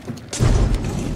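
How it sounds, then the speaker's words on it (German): Trap set off on a staircase in the shooter game Hunt: Showdown, heard as a brief muffled boom and low thud that swells after a quiet start, with no talk. "Ach, die Falle haben sie ausgelöst."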